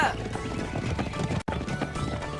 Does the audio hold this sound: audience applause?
no